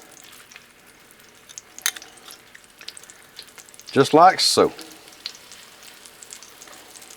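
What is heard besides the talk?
chicken shallow frying in oil on griddle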